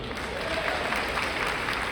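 An audience at a speech breaks into applause, a short, even clatter of many hands clapping together at steady loudness, without distinct voices over it.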